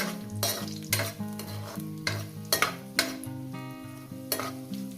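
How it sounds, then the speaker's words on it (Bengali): Raisins, cashews, whole spices and bay leaves fry in ghee, a soft sizzle marked by regular sharp clinks of a spoon stirring in the pan, with a background tune playing throughout. "কিশমিশ কাজু গোটা গরম মশলা তেজপাতা এগুলো একটু ভেজে নেব ঘিয়ের মধ্যে ভেজে নেব"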